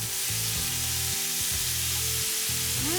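Steak browning in a hot pan gives a steady, close sizzle with a broad hiss, broken by a few low scraping and shifting sounds, with no one talking.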